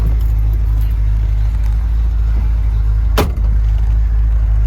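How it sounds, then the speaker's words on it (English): 1965 Corvette engine running up close with a loud, steady low rumble throughout, with a brief sharp click or clunk partway through. "let's get in this car and take it for a test drive now"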